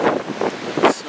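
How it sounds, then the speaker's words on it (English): Strong wind buffeting outdoors, rough gusty bursts of noise hitting the microphone in quick irregular waves, loud and close. "it's super windy out"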